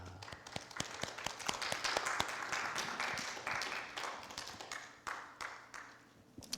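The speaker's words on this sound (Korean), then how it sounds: "우리 박수 한번 환영하겠습니다." Applause from a church congregation welcoming back a returning member during a Sunday service, a spread of hand claps rising and fading over several seconds, moderately distant in a hall with a low hum beneath.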